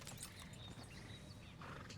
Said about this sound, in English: Man, that's such a clean looking horse.